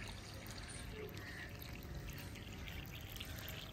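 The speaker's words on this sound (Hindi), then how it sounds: "ये देखिए पानी के साथ जो है ना रेती भी जा रही है" Water flows steadily and carries sand with it in a rural village setting, a faint, continuous rushing wash with no break.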